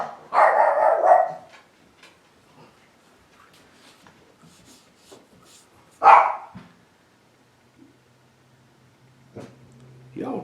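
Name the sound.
dogs barking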